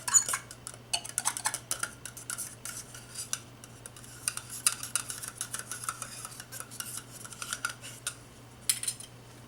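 A fork stirring melted soap, with light metallic clinks and scrapes in irregular close bursts against a container over a steady low hum.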